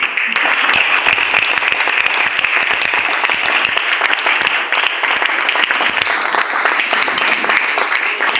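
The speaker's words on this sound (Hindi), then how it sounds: "तालियां अगर बजाइए तो भाई साहब दिल से बजाइएगा।" Applause from an audience at a Modicare recognition event in Varanasi, loud dense clapping sustained steadily throughout with no break.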